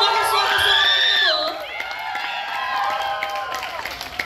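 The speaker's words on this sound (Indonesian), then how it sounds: "Sama-sama kita berikan tepukan yang paling gemuruh." An audience at a Christmas event cheers and claps for the GAKB Voice performers, high excited shouts and whoops over scattered clapping, loudest at first, then settling into a lighter crowd buzz.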